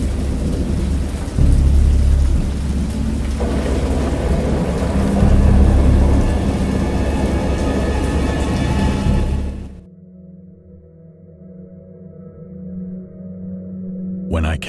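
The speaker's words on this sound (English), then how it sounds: "I heard pearls of thunder and other tones which nature utters only in her wildest moods" Thunderstorm with heavy rain in the horror video game Dagon: loud, dense rainfall with deep rumbling thunder for most of the stretch, then an abrupt drop to a quieter low drone.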